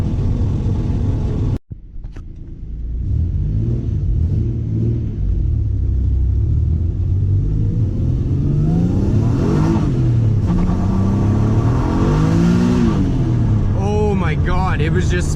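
A Megasquirt-tuned turbocharged car engine revs and pulls hard, with loud rumbling harmonics sweeping up and down after a brief dropout near the start.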